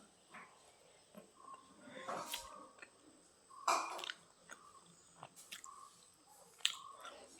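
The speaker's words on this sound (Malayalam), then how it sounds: "ഒരു കഷ്ണം ബീഫും ഒരു കഷ്ണം കടച്ചക്കയും കൂടെ എടുത്തു കഴിച്ചു നോക്കാം" Someone chews a mouthful of beef with breadfruit, making faint, close crunches and wet smacking sounds in irregular bites over a quiet background.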